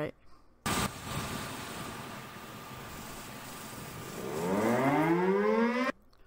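A second civil defense siren sounds in the background, starting as a faint steady tone under broad noise and then winding up with a rising pitch over the final two seconds before cutting off.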